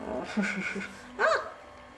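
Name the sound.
Dogo Argentino puppy whimpering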